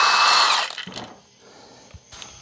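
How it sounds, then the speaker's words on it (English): An impact gun or power tool whirs loudly for about half a second while removing a 17 mm bolt from a Honda Element's manual transmission, then cuts off, leaving faint clinks in a quiet garage. "I can take out the 17 millimeter bolt that's here"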